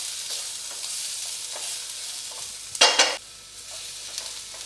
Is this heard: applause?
no